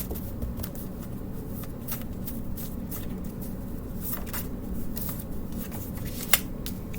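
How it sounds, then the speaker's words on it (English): Continuous rapid riffling of a card deck being shuffled up close, with quick crisp flicks repeating for several seconds. "Let me shuffle it."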